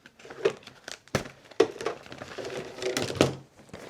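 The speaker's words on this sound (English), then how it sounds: "So you can just tear the water soluble right off." Water-soluble embroidery stabilizer is torn off a rag in several short, crinkly rips and rustles, close up, with brief pauses between pulls.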